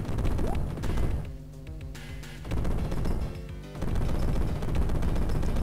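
Rapid gunfire from the video game Jazz Jackrabbit, a loud, continuous stream of blasts layered over busy game music and effects, with a couple of brief lulls.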